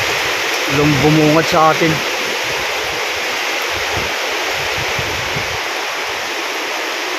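Heavy overnight rain and wind during Typhoon Tino on a farm, a steady loud wash of water and gusts filling the scene, with a brief voice near the start.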